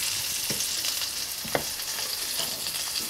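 Hot dogs sizzle in butter on a grill with a steady close frying hiss and a few soft pops and clicks scattered through it.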